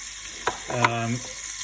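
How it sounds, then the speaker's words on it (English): Bacon sizzles steadily in a hot frying pan, with a short ringing clink partway through. "in the frying pan, I'm going to put in the kind of bacon"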